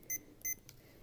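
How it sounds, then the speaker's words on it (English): Two short, high electronic beeps in quick succession from a multimeter continuity test, faint against a quiet background, followed by a soft click. "if it makes the beeping sound like that, it works"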